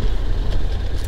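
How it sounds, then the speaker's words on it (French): A 2024 Honda X-ADV's exhaust drones loud and close as it downshifts, a steady low rumble with a brief rise near the end, and no talking over it. "Tu vois le rétrogradage avec le bruit de l'échappement."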